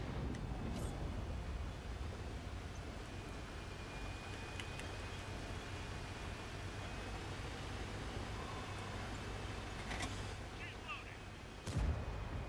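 A tank's ammo rack explodes in a ranked online tank battle game, with a dense, sustained rumbling roar of blast noise and a sharper burst near the end.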